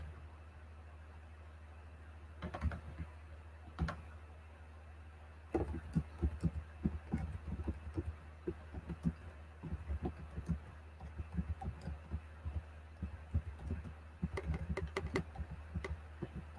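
Computer keyboard typing, starting with a couple of isolated taps, then running in irregular bursts of quick, light clicks, faint and close over a low steady hum with no voices.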